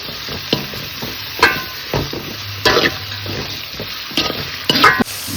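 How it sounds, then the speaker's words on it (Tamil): Onions frying in a pan for a Tamil-style chicken gravy, a continuous close sizzle broken by repeated scraping stirs of a spoon against the pan at uneven intervals; no voices. "வெங்காயம் நல்லா இந்த கோல்டன் ப்ரௌன் கலரில் பொரியிற அளவுக்கு நல்லா வதக்கிடுங்க."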